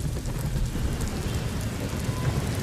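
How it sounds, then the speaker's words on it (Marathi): Heavy monsoon downpour over Mumbai during a thunderstorm with strong winds, a dense, steady roar of rain with low thunder rumbling underneath throughout, loud and close, with no voices. "वादळी वाऱ्यासह मुंबईमध्ये तुफान पाऊस सुरू आहे"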